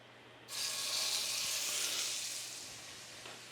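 Steak searing in hot oil in a preheated cast iron pan, a loud steady sizzle that bursts in suddenly and holds with a bright hiss, easing slightly toward the end.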